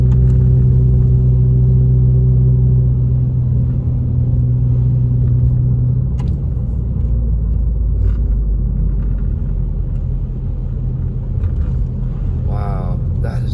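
Car driving a lake road after heavy snow near Big Bear Lake, California: steady low engine rumble and road noise throughout, loud and continuous with no break.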